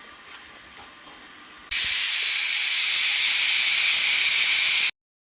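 Loud, steady steam hiss bursting from a steamer holding oiled, rolled dough, starting abruptly after a quiet moment and cutting off sharply about three seconds later.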